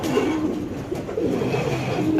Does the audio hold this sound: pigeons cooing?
yes